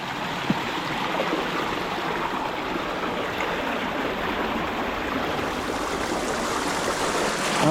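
Steady rushing of river water flowing over rocks, a continuous close wash of sound with no voices.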